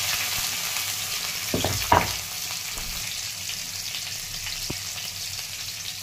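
Mustard seeds, cumin, garlic and green chili sizzle steadily in hot oil in a pan, with a few louder crackling pops and stirring near the start and faint spatters later, with no voices.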